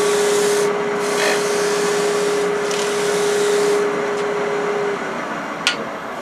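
A Hope Woodturning Pro sander runs against a turning wooden piece with a steady, loud whirring rub and a droning hum, then eases off near the end.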